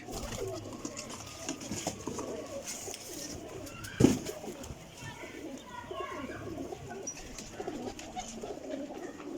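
Pigeons coo softly among a flock kept by a pigeon fancier, a steady low murmur of calls with one louder close sound midway and faint voices in the background.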